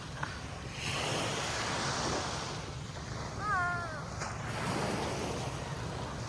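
Ocean surf washes steadily onto the shore at El Mar Resort beach in Sogod, Cebu, Philippines, a continuous broadband rush with wind buffeting the microphone and a brief high chirp partway through.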